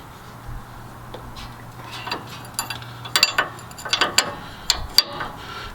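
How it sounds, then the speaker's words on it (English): Wrenches work a tie rod bolt loose on a Ford F-250/F-350 during a lift kit install, giving a series of metallic clicks and ratcheting clanks that cluster and grow louder toward the end, close up. "in order to get this tie rod in bolt off, I'm having to use an 8mm wrench and an 18mm wrench"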